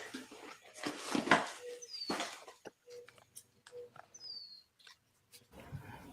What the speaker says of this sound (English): I think it's little like love doves, like little doves or something.